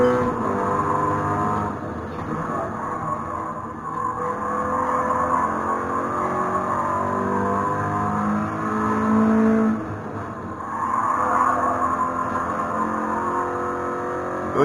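Toyota GR86 in a racing simulator lapping the Nürburgring, its engine droning steadily with rises and falls in revs as it accelerates and shifts, and brief tyre squeal in the corners.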